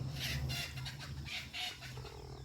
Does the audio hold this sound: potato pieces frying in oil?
no